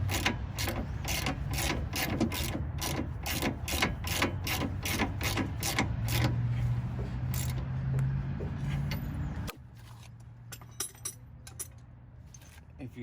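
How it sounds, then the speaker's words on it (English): A ratchet wrench clicks in fast, even bursts while a car's lower control arm and end link bolts are tightened during a coilover install, close and loud, then the ratcheting slows to a few sparse clicks. "Tighten up your lower control arm and tighten up your end link."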